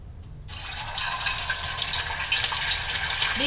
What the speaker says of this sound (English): make sure your oil hot enough, and then let's start fry our egg tofu.